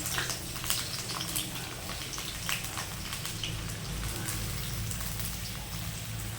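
Sliced onion, ginger pieces, garlic cloves and green chili sizzling in a pan of hot oil for a soybean curry with cashews, a steady crackling hiss with scattered pops throughout, fairly close, with no talk over it.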